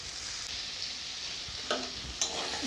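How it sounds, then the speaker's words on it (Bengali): Masala mixed with beaten yogurt and melon seed paste fries in a pan for a cauliflower roast, giving a soft steady sizzle broken by a couple of brief stirring scrapes. "ভালো করে কষাবো মশলাটা"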